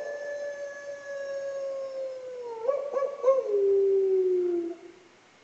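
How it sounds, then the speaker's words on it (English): A Webkinz Signature Timber Wolf plush toy gives a long electronic howl, a clear sustained tone that wavers, dips in pitch, briefly breaks up and then fades out, heard alone and close. "He howls on it."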